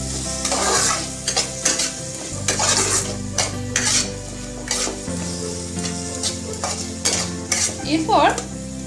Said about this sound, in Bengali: এগুলো দিয়ে একটু নেড়ে নেব। 1 মিনিটের মতো নাড়তে থাকবো।